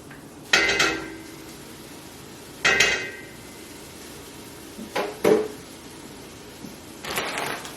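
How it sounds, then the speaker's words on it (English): Kale leaves tumbling into a sauté pan for a Southern-style dish, heard as four separate bursts of rustling and light metallic clatter from the pan, spread across several seconds with quiet gaps between them. "Here comes the kale. Okay, it's all in."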